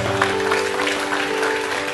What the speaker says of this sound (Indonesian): Nah, tepuk tangan, tepuk tangan.